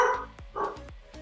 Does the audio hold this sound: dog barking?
yes